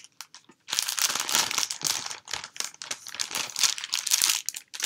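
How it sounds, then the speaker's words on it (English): The plastic packaging of a Country Sampler cross-stitch kit crinkles and rustles up close, in a run of busy, uneven crackling bursts. "Crinkle, crinkle, crinkle, crinkle."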